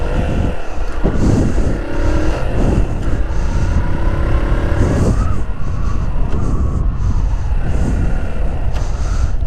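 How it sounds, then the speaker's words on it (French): Car engine running steadily during a driving lesson on a practice lot, its tone rising and dropping through gear changes with clutch release, loud and close with no talk over it. "je vais vous montrer les différents types de passage de vitesse"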